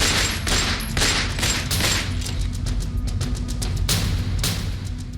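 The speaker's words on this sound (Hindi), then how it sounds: "वहीं काले लिबास पहने अतीक का बेटा असद उमेश पाल पर ताबड़तोड़ फायरिंग करता हुआ दिखाई दे रहा है।" Rapid, repeated gunfire during a street shooting in Prayagraj, with sharp shots crackling in quick succession over a steady noisy background, close and loud throughout.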